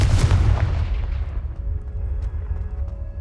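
A Confringo fire spell explodes in the Hogwarts Legacy video game, a loud booming blast up close that decays into a lingering low rumble with no talking.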